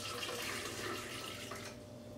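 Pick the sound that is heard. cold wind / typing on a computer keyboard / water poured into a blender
water poured into a blender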